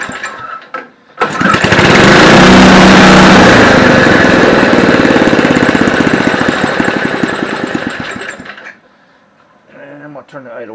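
Homelite Jacobsen snow blower with a Tecumseh engine and a newly replaced carburetor fires up and runs loud and steady for several seconds, then cuts out, leaving quiet with faint speech after.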